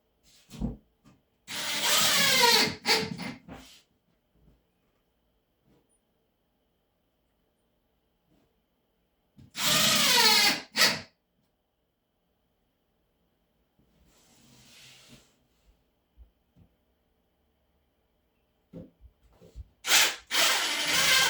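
A power drill drives screws into drywall in three separate whirring bursts with quiet pauses between them, the motor winding up and down close by.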